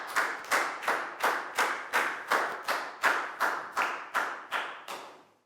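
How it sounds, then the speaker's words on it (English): A Year 4 math class applauds a student with slow, evenly spaced claps, about a dozen distinct hand claps in a steady rhythm, fairly close and with no talking. "a big round of applause for Dan, please, guys"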